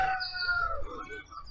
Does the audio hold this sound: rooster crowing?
yes